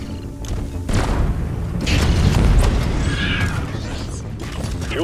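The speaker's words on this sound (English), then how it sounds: "Neurotoxin grenade!" A neurotoxin grenade goes off in the video game Deep Rock Galactic: a heavy, close thump with a rolling rumble, followed by hissing and mechanical clatter amid game effects.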